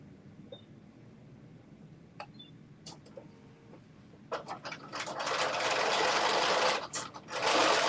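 Sewing machine stitching a hem with a rolled hem foot, starting after a few faint clicks and running steadily and close for the last few seconds with a short pause near the end.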